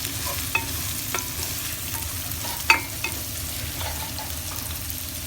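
Sliced carrots frying in a pan, with a soft continuous sizzle and occasional light scrapes and taps of a spoon as they are stirred, one sharper knock in the middle.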